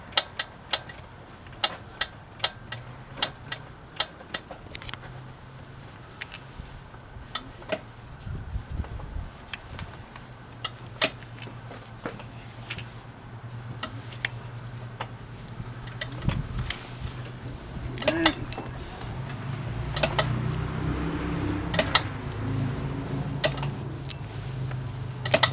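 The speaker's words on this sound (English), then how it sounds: "So it's just the crank moving back and forth." The crank of a 1973 VW Bus engine is worked back and forth, giving a long series of sharp mechanical clicks and knocks at an irregular pace over a low background hum.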